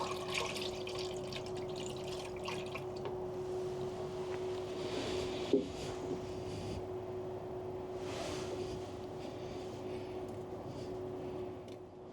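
Plain water trickles and runs steadily through newly fitted push-fit plumbing pipes on a widebeam canal boat, a faint continuous flow with a low hum beneath it.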